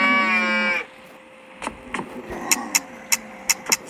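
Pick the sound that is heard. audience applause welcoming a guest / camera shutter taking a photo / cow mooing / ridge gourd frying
cow mooing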